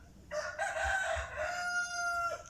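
A rooster crows loudly and close by in a backyard chicken farm, one long drawn-out call that rises and then holds steady before trailing off, with faint background noise.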